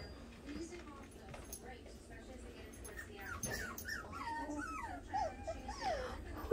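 A young puppy whimpers and cries indoors, with a series of thin, high rising whines that grow more frequent toward the end over soft household background noise.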